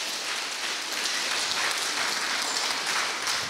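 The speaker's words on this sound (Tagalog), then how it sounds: "Ibigay ang pinakamalakas mo na palakpak sa Ginoo" A church congregation at a Sunday service breaks into loud, sustained applause, a dense steady wash of many hands clapping at once that fills the room with no voices above it.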